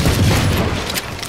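A Valorant grenade goes off with a deep, rumbling boom up close, loud at first and then decaying over about a second.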